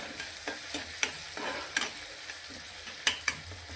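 Garlic fries softly in a pan with a low sizzle while a spoon stirs it, tapping and scraping against the metal at irregular intervals. No one speaks.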